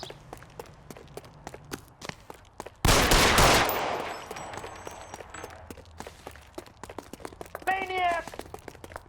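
Gunfire in the crime game L.A. Noire: sharp shots crack out repeatedly, with a dense loud burst around the middle, someone shouting near the end.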